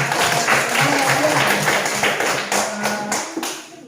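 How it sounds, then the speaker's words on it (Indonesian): A classroom of pupils clapping together after a song, a steady patter of many hands close by, with children's voices mixed in underneath. "terima kasih tepuk tangan"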